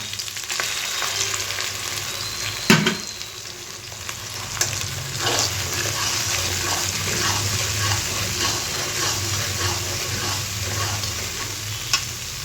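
Bengali spice paste of poppy seed, mustard and fennel fries in a pan for dudh shukto, a continuous close sizzle with occasional spoon scrapes and a couple of sharper clinks, no talking.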